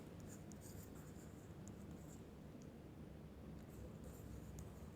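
Pen scratching on paper, faint soft strokes in quick irregular bursts over a steady hiss of background noise, with no one talking.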